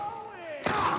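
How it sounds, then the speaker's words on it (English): A single sharp gunshot bursts out close by in The Last of Us Part 1, right after a brief vocal sound. "Who's shooting me?"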